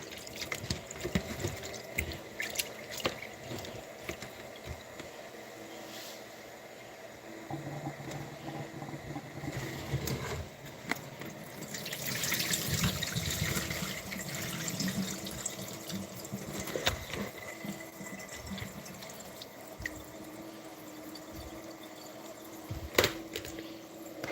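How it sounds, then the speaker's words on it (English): Tap water runs into a sink while food is rinsed under it, a continuous close splashing and trickling with clinks and knocks, louder in the middle stretch. "Gotta rinse this food off."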